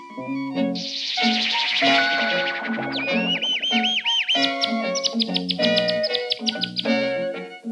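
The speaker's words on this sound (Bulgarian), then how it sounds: "Искам птичка." A cartoon bird chirps in quick, bright tweets and rising whistles, close and loud over a busy musical backing, with no talking.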